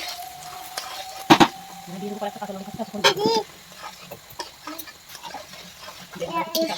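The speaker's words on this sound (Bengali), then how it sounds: "নাড়াচাড়া করে ভাজা করবো।" Moong dal is stirred and dry-fried in a pan while making khichuri, with sharp clanks of a spoon against the metal and a low sizzle under intermittent nearby voices.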